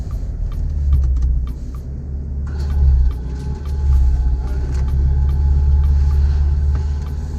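A BMW M4 with its exhaust valves open, a deep, close engine rumble that swells and settles at low revs while the car creeps along, with light clicks over the top and no talking.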